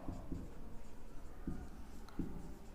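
Pen on paper writing out math values, faint soft scratches in a few short bursts over a steady low hum, no talking.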